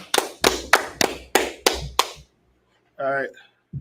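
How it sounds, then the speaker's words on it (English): A short burst of hand claps from a group at a Biblical law class, about seven sharp hits at a steady rhythm, then a brief vocal sound and one more faint tap. "All right, let's clap it up."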